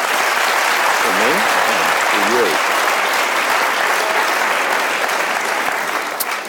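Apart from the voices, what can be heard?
audience applause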